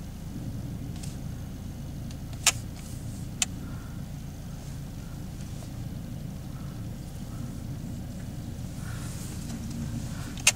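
Interior drone of a car being driven on the road during an ABS light fault check, a steady low rumble with a couple of faint clicks.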